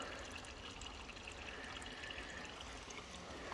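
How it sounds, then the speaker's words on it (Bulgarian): Water runs steadily into containers at a roadside spring or tap, a constant broadband rush with no pauses, fairly close and even in level throughout. "зареждаме с вода"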